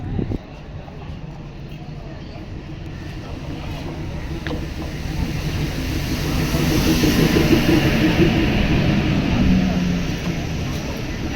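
A DEMU passenger train rumbles into a station, its low mechanical drone and clatter swelling louder over several seconds before easing slightly, with faint voices around.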